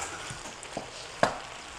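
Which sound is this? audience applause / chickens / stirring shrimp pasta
stirring shrimp pasta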